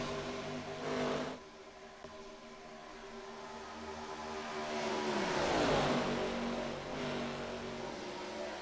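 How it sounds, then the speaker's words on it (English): ARCA stock cars race at Kansas Speedway in a sim race, their engines droning with layered harmonic tones that swell and fall as cars sweep past, a louder pass around the middle, with no talk. "Top 5 car breakaway right now down the back straightaway"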